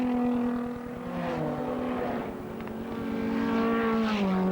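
Touring race cars, a Ford Mustang and BMWs, in a 1985 six-hour saloon car endurance race, engines roaring loudly and steadily with shifting pitch as the cars pass close by, no talk.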